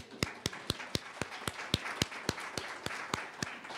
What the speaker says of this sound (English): I'm just going to give you a personal round of applause here.